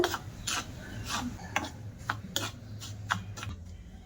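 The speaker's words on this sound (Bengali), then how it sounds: "দিয়ে ভালো করে শুকনো উপকরণগুলো মিশিয়ে নেব" Dry flour, baking powder and salt are mixed in a bowl, giving rhythmic scraping and rubbing strokes with occasional sharp taps of the utensil against the bowl, close and fairly quiet.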